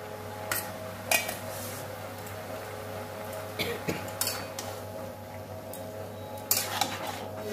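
Potatoes go into a pot of cooking cabbage and tomato curry, with several clattering clinks of pots and utensils over a steady background hum, and no one speaking.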